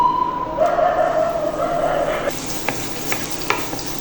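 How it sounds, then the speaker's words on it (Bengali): Chopped onion and garlic hit hot soybean oil in a pan, giving a steady, close sizzle and frying hiss with a few light stirring knocks later on, and no talking. "তেল গরম হয়ে গেলে এর মধ্যে দিয়ে দিব পেঁয়াজ কুচি ও রসুন কুচি"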